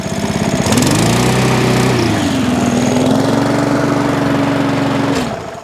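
Discarded Webb WER 400 rotary lawn mower engine running close and loud, a steady droning hum that fails to rev up fully, holding an even pitch before cutting out abruptly.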